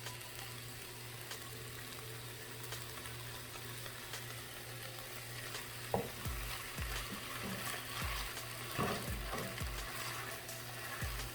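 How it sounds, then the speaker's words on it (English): Chicken and noodles sizzling in a pan as soy sauce goes in, a steady quiet fry with scattered crackles and a low hum behind it, no talking. "And now we're gonna add the soy sauce"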